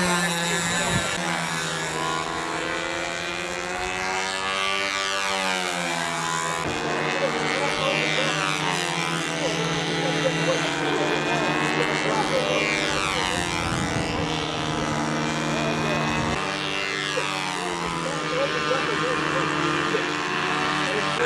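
An aircraft on a practice flight over a windy park drones with a propeller engine whose pitch swoops up and down as it makes repeated passes, loud and continuous throughout.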